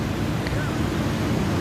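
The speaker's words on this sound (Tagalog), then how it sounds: "So ayan ang dagat dito mga ka-check-in." Sea surf washes continuously at a busy tourist beach with speedboats and jet skis nearby, a steady broadband roar mixed with wind buffeting the microphone.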